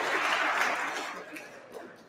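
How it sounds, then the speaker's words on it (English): Audience applause at the EFF Awards 2022 ceremony, a broad wash of clapping that is loud at first and thins out over about two seconds, with a few scattered claps near the end. "Let's give a round of applause to the EFF members"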